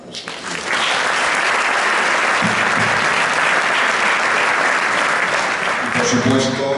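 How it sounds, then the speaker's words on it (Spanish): Sustained, loud applause from a seated audience at a book presentation, a dense even roar of clapping that rises quickly and holds, before a speaking voice returns near the end. "Un aplauso para nuestro equipo."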